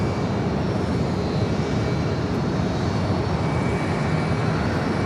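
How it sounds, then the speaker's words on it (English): A fifteen-year-old Airbus A330-200 converted to carry cargo comes in from Mexico City, its engines a continuous broadband roar, loud and unbroken throughout. "Flight coming up from Mexico City, flight 910. It's a 15-year-old converted A330-200."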